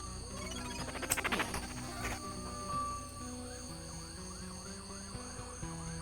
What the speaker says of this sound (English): There are so many sirens out there right now.